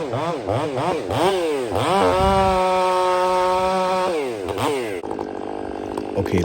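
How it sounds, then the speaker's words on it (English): A Stihl MS500i chainsaw bucks felled timber, its engine revving up and down in quick surges, then holding a long steady high whine while cutting before dropping back to a rougher idle, loud and close. "listen to the saw here now. When I limb, listen."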